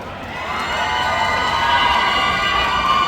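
A large crowd at a series launch press event screams and cheers loudly and continuously, a dense wall of high-pitched shrieks with no one speaking.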